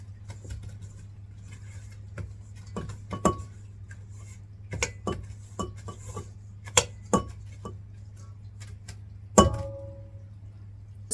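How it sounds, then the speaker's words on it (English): A spoon stirs sourdough mixture in a bowl, giving scattered clinks and scrapes against the bowl at an irregular pace over a low steady hum, close and quiet. "Give that a good stir."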